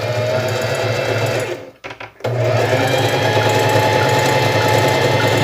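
A Facilita Pro sewing machine runs a straight seam at a steady fast clatter, loud and close, with a brief pause in the middle before the stitching resumes.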